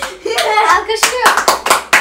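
A quick burst of hand claps in the Roblox game Murder Mystery. Sharp, close slaps come in an uneven run after a brief voice at the start.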